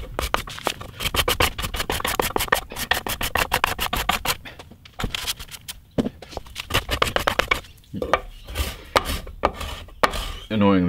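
Rapid, rhythmic scraping on a Gibson SG Special guitar body during restoration, a tool rasping off paint and sticker residue in quick close strokes, with a few brief pauses and no talking.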